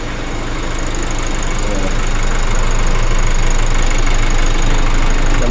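A car engine idles steadily after being jump-started, a continuous close, loud rumble with a low hum that stays even and unbroken throughout.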